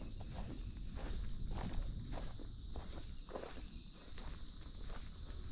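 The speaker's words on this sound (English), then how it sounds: "Cicadas are out and living the dream." A constant high-pitched insect drone of cicadas fills the background while footsteps crunch steadily underneath, on a Florida Trail hike between Salt Springs and Hopkins Prairie.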